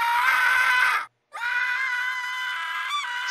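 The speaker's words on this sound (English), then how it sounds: "Stop your screaming." Loud, sustained, high-pitched screaming from a Minecraft animation character, one long shrill cry that breaks off in a brief silence, then resumes and holds steadily to the end.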